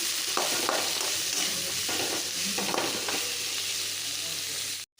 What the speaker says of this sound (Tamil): இந்த எண்ணெயில் கட் பண்ணி வச்சுருக்க வெங்காயம், பச்சை மிளகாய் ரெண்டையும் ஒன்றா சேர்த்துக்கலாம்.